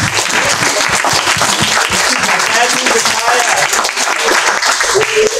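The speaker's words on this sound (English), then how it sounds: "let's give them another round of applause" Loud, dense applause from a crowd, sustained clapping filling the room with no break.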